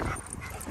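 A dog whimpers briefly and close by on the way to a dog park, a short high-pitched whine with no talk.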